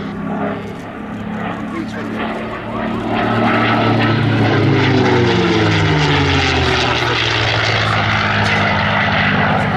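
An Australian-built Commonwealth Aircraft Corporation CA-18 Mustang Mark 21 flies past at an air display at Duxford, its propeller engine droning loud and steady, rising in intensity and holding with a shifting pitch.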